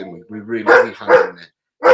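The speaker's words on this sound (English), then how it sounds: "And excuse my dog." A dog at home barks a few times in quick, loud bursts close to the microphone while someone talks about football.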